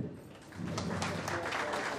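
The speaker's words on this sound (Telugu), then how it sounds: "గట్టిగా క్లాప్స్ కొడదామండి" A crowd at a wedding claps together, starting modestly and swelling into sustained applause after a moment, filling the room with steady patter.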